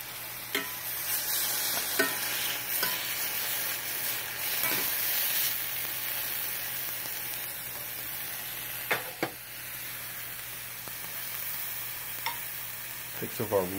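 Sauerkraut sizzles on a hot grill with a continuous crackling hiss, broken now and then by soft scraping and clicks of a utensil.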